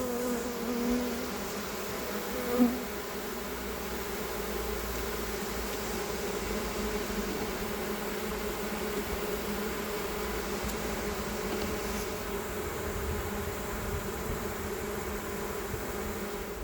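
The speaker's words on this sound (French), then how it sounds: "il reste un paquet d'abeilles qui doit surtout être en train de lécher le miel qui reste" A steady, dense buzz of many honeybees from a swarm droning together close by, continuous throughout with no talking.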